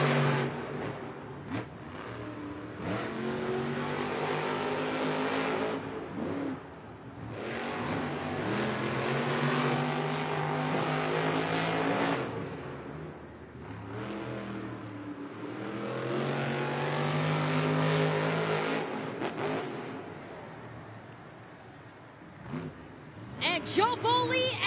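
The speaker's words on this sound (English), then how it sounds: "Outside yellow lights means our drivers need to fire their engines, head to the starting line." Monster Jam monster truck engines revving together at the starting line of a stadium championship in East Rutherford, NJ, a loud sustained rumbling roar that surges and eases in waves, with an announcer talking over it.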